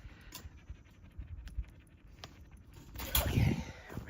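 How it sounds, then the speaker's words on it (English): A dog pants in quick, rhythmic breaths close by on a morning trail run, with footsteps and rustling, and the breathing grows louder toward the end. "You're breathing, you're panting."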